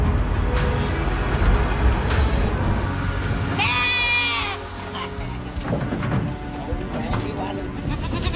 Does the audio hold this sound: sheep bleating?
yes